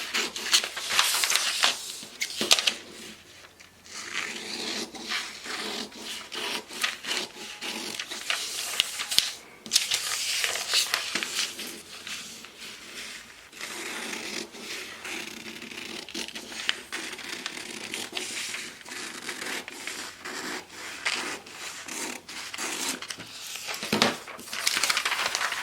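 Scissors snipping and paper crinkling while a slant pocket bag pattern is cut out for shorts, irregular close crisp cuts and rustles over about twenty-five seconds with no talking.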